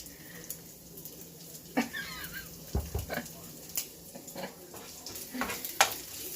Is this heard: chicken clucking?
no